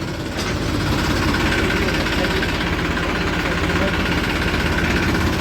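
A tractor engine idles with a steady, loud, low rumbling chug that runs unchanged from start to finish with no clear talk over it.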